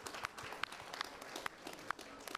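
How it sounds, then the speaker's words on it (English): Audience applause for a discussion panel at an event on carbon markets and Africa, a soft steady patter of clapping with a few sharper claps standing out across the room. "Give them a round of applause."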